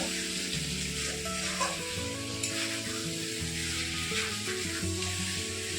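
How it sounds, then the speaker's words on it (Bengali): Meat cooks in a pan with a steady sizzle and occasional stirring, heard under a faint tonal hum in the background. "এখন মাংস রান্না করছে"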